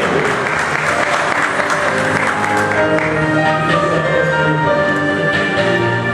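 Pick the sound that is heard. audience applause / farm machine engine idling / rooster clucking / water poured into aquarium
audience applause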